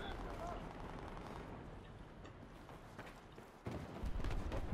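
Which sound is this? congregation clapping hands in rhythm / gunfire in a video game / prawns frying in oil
gunfire in a video game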